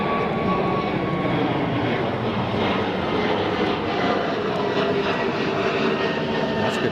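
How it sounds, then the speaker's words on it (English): Air France jet airliner departing into the wind at Zurich Kloten Airport, a steady loud engine roar holding broadband and constant across the whole stretch with no speech. "we've got Air France departure"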